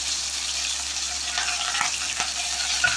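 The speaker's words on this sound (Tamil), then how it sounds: "கடுகு பொரிஞ்சதுடனே சும்மா கொஞ்சமாக ஜீரகம் போட்டுட்டு கருவேப்பிலையும் போட்டுட்டு தாளித்து சட்னியில் கொட்டிடுங்க" Mustard seeds, cumin and curry leaves tempering in hot oil for a chutney, giving a steady close sizzle with a few faint pops and stirring scrapes.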